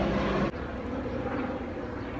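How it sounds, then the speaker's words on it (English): A helicopter passing overhead makes a steady, loud, broadband rumble that holds throughout, with a brief drop in level early on before the drone continues. "Just waiting for that helicopter to pass."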